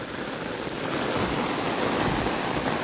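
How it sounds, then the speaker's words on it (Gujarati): Heavy monsoon rain in the Gir forest of Gujarat pours down in an even, dense hiss, steady and enveloping throughout, with no voices. "સેલો વરસાદ છે"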